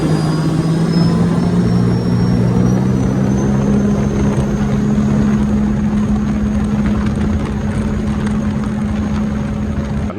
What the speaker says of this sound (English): on a 300 and prior, that's how you get that like jet engine sound